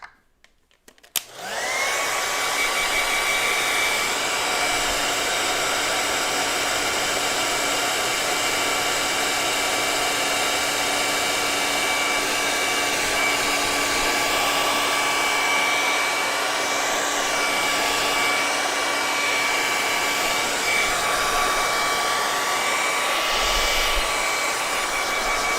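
Hair dryer blowing steadily on acrylic paint, a loud continuous whir with a high whine that starts after a brief click and runs unbroken to the end, with no talk.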